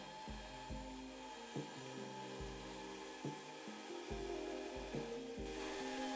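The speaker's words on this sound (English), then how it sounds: "it was time to go back to the bandsaw to cut out the neck blank" A bandsaw cuts a wooden guitar neck blank, a quiet steady whir of the blade through wood with repeated low thuds and shifts as the piece is fed and turned, no voices.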